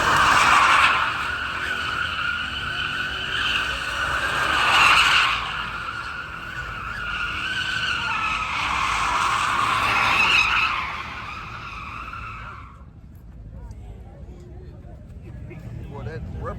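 Tires shriek in a long, loud burnout at a Houston car meet, the squeal swelling and fading in waves for about twelve seconds before cutting off, with people talking nearby throughout.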